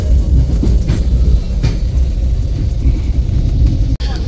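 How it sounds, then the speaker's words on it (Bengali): A train pulling out of Chennai Egmore station, a heavy low rumble with wheel noise from inside the carriage, steady and fairly loud with no talking. "আমাদের ট্রেন কিন্তু চেন্নাই ইগমোর থেকে ছেড়ে গেল।"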